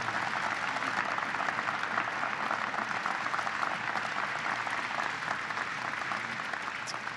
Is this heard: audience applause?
yes